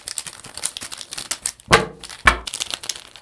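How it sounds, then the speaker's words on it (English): Game tokens for the Lawless Empire board game are shaken inside an opaque bag, making rustling, clattering bursts with two louder, sharper shakes close by. No one speaks. "put them in some kind of opaque bag, shuffle them up, give the bag a good shake"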